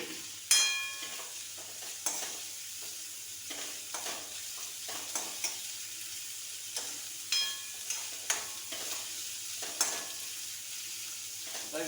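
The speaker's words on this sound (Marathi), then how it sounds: "थोडं ढवळत राहायचं." Potato bhaji spits and sizzles in hot oil in a pan over a full flame, broken by sharp knocks and scrapes as it is stirred at uneven gaps, close up and with no talk.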